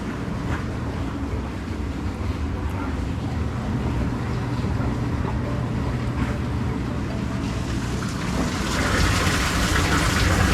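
Water rushing into a maple syrup evaporator pan during the first batch of the season, a steady loud gushing roar close by, with a brief swell near the end.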